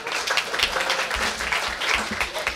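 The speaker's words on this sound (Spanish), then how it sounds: "Un aplauso, por favor." A conference audience claps for a volunteer at a panel session, brisk, lively applause of many hands that carries steadily through the short moment.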